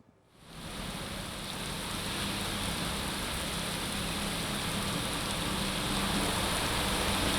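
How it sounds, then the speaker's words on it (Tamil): Heavy rain pours down in Chennai, a dense, steady roaring hiss that swells in within the first second and stays loud and unbroken throughout. "சென்னையில் தொடர்ந்து கனமழை பெய்து வருகிறது."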